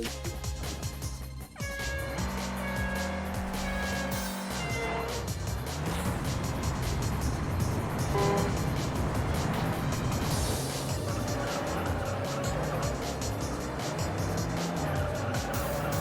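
Car engine roaring with tire squeal and skidding from a handbrake turn in the racing video game Juiced, likely a Volkswagen Beetle, sustained and loud with shifting engine tones throughout.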